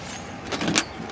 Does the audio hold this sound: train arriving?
no